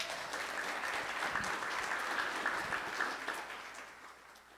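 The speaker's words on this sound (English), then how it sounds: "Can we give her a round of applause?" A seated audience breaks into steady, sustained clapping at a conference session on communicating with data for racial equity, loud and dense throughout before tapering slightly near the end.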